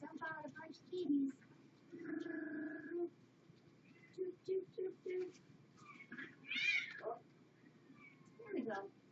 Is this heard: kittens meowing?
yes